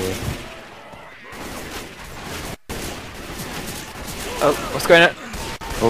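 Machine pistol fire in Left 4 Dead 2 during a frantic stairway room defense, a busy jumble of shots and crashes running under excited talk, with a louder burst near the end.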